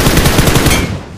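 Rapid automatic gunfire from other players in a shooter video game, a loud, dense burst of shots that cuts off after about a second, with no voices.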